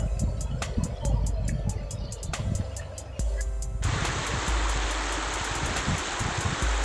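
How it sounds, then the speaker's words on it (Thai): Khlong Maduea waterfall at Suan Kamnan Pe in Nakhon Nayok, a steady broadband rush of falling water that grows louder and fuller partway through, with occasional clicks and a voice speaking over it. "พี่ตุ๊กก็พาพี่ๆน้องๆลงมาเล่นน้ำตกค่ะ"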